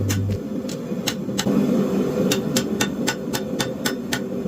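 Hot metal is hammered on an anvil in a forge to draw out a spoon handle, giving a run of sharp, ringing blows at an uneven pace over a steady low roar from the forge.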